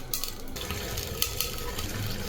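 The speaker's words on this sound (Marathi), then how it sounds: "पाण्याला उकळी आली, त्यामध्ये आता हे धुतलेले तांदूळ टाकून घेऊ" Washed rice tipped into a pot of boiling salted water, a brief rushing splash and bubbling hiss, close and fairly loud, with no talk.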